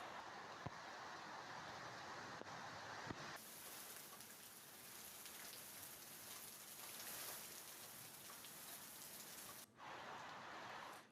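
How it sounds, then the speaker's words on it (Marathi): Heavy unseasonal rain with stormy wind pours down steadily at moderate loudness, a dense continuous hiss that drops out briefly near the end. "वादळी वाऱ्यासह मुसळधार पाऊस इथं झालेला आहे."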